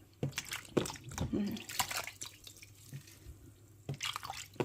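Black mushrooms are washed by hand in water in a single rinse, giving soft splashes and drips in irregular bursts, close and fairly quiet, with brief talking.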